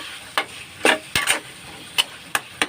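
Alamang (shrimp paste) is sautéed in a pan with a bay leaf: a soft background sizzle broken by several sharp, clicking scrapes of a utensil stirring against the pan at uneven intervals.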